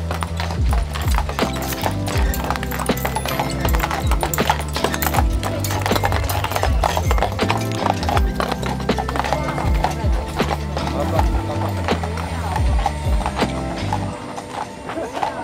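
Horse-drawn carriage near Neuschwanstein Castle in Bavaria, Germany, with hooves clip-clopping steadily on a paved road, loud and close, with continuous rhythmic hoofbeats throughout and faint background voices.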